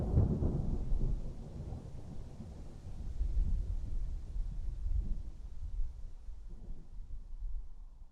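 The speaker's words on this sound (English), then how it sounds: "Storm rolling through here." Rolling thunder and rain from a thunderstorm in the Civil War strategy game Grand Tactician: The Civil War. Deep, low rumbles rise and fall continuously over eight seconds with a steady rain hiss and no voices.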